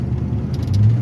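A 1969 Ford Mustang Mach 1 engine pulls hard in third gear, a steady low rumble that swells slightly toward the end, heard close and loud with no talking.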